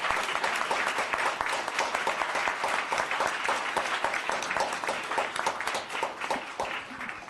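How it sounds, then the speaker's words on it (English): Audience at a town council meeting gives a round of applause, a loud sustained burst of many hands clapping that carries on without let-up. "Let's give her a round of applause."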